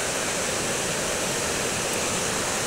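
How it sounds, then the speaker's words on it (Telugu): Floodwater rushes in a constant, loud roar like a torrent, steady and broadband for the whole stretch with no voices or breaks. "ఇది వరద రావడం"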